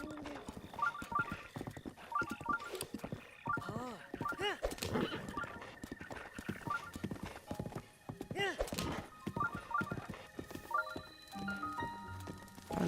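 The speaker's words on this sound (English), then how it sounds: "I'm gonna leave horsey here because it cannot go any faster" Horse in the Breath of the Wild video game, with rhythmic clip-clop hoofbeats of galloping and several neighs, mixed with game music and a person talking throughout.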